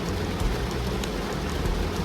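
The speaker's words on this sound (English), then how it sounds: "downpouring rain" Dense, steady rain pours down with a constant roar and patter, heard from inside a car with a low rumble underneath.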